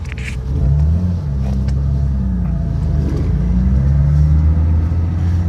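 A BMW E30 fitted with an M30B35 3.5 litre straight-six drives along, its engine a steady close rumble that rises and falls gently as it pulls and shifts, with no talk over it.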